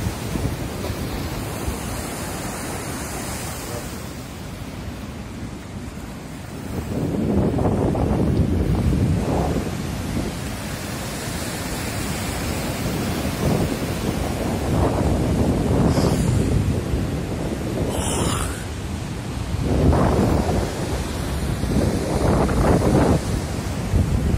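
Steady wash of ocean surf at a hidden beach in southwest Aceh, with waves surging in every few seconds, wind buffeting the microphone throughout; no voices.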